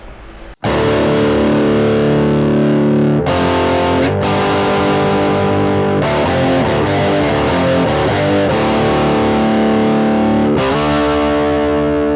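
A Boss overdrive guitar effect pedal plays a sustained, gritty, distorted chord sequence, loud and alone. The chords change several times over roughly twelve seconds.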